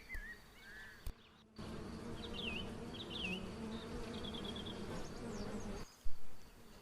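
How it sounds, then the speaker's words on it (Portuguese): Apis bees buzz in a continuous close drone that swells in for several seconds and then cuts away, with soft bird chirps around it. "aquelas eram as abelhas apis e têm ferrão"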